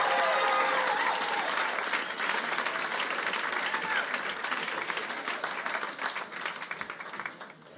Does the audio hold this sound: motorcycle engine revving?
no